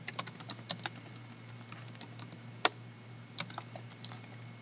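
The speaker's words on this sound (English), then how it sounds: "that's what we're going to type." Computer keyboard typing in steady, uneven bursts of close, crisp key clicks, with one sharper louder tap near the middle, over a low steady hum, with no voices.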